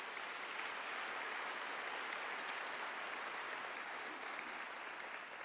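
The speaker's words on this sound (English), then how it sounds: "Let's give them a round of applause." Applause from a conference audience, a dense, even clatter of many hands that stays steady throughout and sounds somewhat distant.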